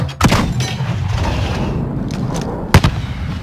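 Explosions in Call of Duty: Modern Warfare's Embassy mission: two sharp, heavy blasts, one early and one louder near the end, over a low rumbling battlefield background.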